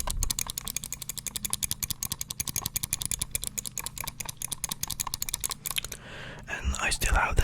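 Rapid, continuous typing on a computer keyboard, close and crisp, with keys clattering in quick irregular bursts before the tapping stops near the end and a brief rustle follows.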